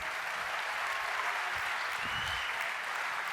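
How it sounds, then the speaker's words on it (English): A large audience applauds to welcome a guest onto the stage, a continuous thick roar of clapping heard from a distance that stays level throughout. "give a big round of applause and say hello"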